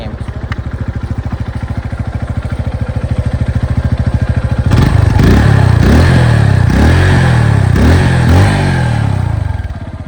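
A motorcycle engine idles steadily and loudly up close, then revs in several rising and falling bursts over the second half before settling back to idle.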